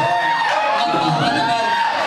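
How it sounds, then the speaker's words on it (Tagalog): An audience at a stage performance cheers and claps in a steady, loud crowd roar, with whoops and voices mixed in throughout. "Palakpak naman po."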